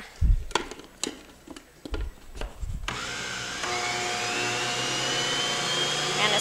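A food processor mixing pizza dough with soft butter roars up to a steady, loud whir after a few thumps and handling knocks at the start.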